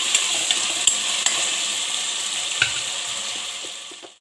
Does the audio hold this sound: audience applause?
no